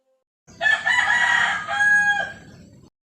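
A rooster crowing once, close and loud, a long drawn-out call lasting over two seconds that rises then tails off, alone with no talk.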